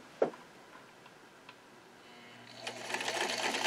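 Singer 237 sewing machine mechanism turning, starting with a sharp click, then a few faint ticks before it builds into a steady, louder mechanical whir and rattle during the final second.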